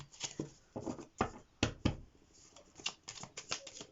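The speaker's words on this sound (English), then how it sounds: "as I'm shuffling the cards, and this is why I'm shuffling a bit more" Tarot cards being shuffled by hand in a quiet room, giving irregular bursts of crisp riffling and slapping strokes, close and fairly soft, with no voices.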